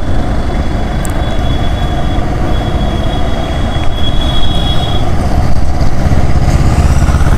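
A train runs loud and close on a railway track beside the Mahatma Gandhi Setu bridge over the Ganga at Gaighat in Patna, a continuous rumble of wheels and wagons with thin, high wheel squeals.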